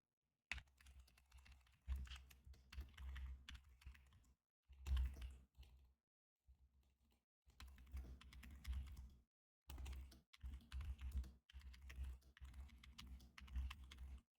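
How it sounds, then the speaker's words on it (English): Fast typing on a computer keyboard comes in several bursts of close, rapid key clatter separated by short silent pauses. "sorry, I'm typing up in chat really quick."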